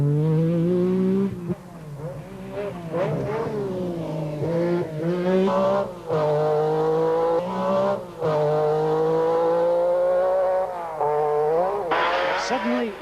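A Metro rally car driven hard on a rally stage at the 1986 Circuit of Ireland Rally, its engine revving high and rising and falling through gear changes, loud and close, with a commentator's voice over it.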